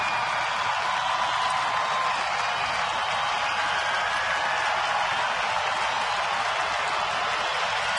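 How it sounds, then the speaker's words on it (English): A packed Detroit ballpark crowd cheers in a steady, dense roar during a Tigers home game against Boston, the noise loud and continuous from start to finish without pauses. "And here comes the crowd."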